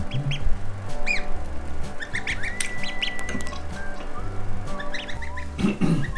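Ducks in bath water on a homestead, giving repeated nasal quacks and squawks in uneven bursts close by, with no one talking.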